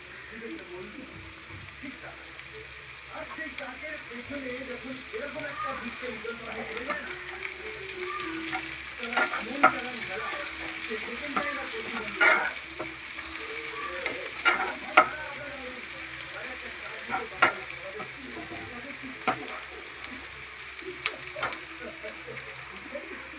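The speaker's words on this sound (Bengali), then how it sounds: "রসুনটাও ভাজা ভাজা হয়ে গেছে। এবারে আমি দিয়ে দিচ্ছি লঙ্কা কুচিগুলো" Chopped green chillies frying with garlic in a pan give a steady, low sizzle, with occasional sharp spatters and stirring sounds while someone talks over it.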